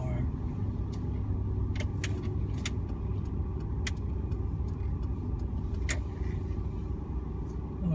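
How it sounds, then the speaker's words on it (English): A car creeps slowly along while its driver hunts for a parking spot, giving a steady low engine and road hum inside the cabin with occasional faint ticks and clicks. "just looking for a spot where I can park my car"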